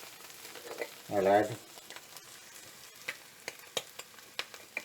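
Parsley frying in a pan while cooking carpetbagger steak, a faint sizzle with scattered crisp pops and clicks, a brief spoken phrase early on.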